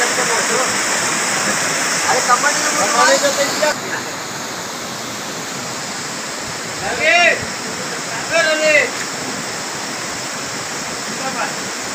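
A waterfall at Rautwadi near Dajipur rushes steadily close by, a constant broad roar, with brief voices rising over it a few times.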